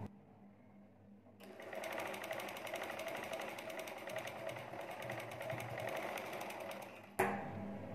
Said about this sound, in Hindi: यहाँ सिलाई लगाएंगे।